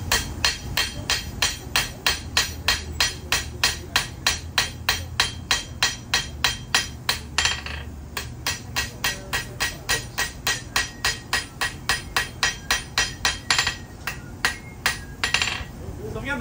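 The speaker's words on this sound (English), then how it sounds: "what I'm doing is called planishing. I'm refining the surface finish of the material by using a slightly polished hammer." A polished hammer planishing the steel of a forged kunai blade, striking in a fast, steady rhythm of ringing metallic blows that continue close and loud throughout, with a brief pause midway.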